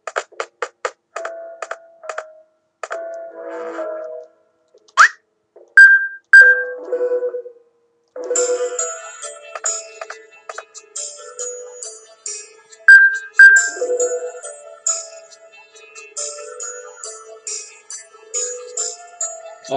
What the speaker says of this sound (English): There's an alarm there.